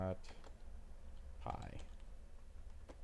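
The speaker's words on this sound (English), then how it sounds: "Now I can just type in Python 3 testing.py." A few light keystrokes and clicks on a computer keyboard, typing a Python command in a terminal, sparse and quiet, interleaved with someone speaking.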